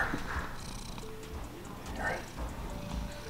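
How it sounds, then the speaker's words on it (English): Soft, rhythmic purring from a cat close to the microphone, a low rumbling pulse with faint background noises. "She's purring."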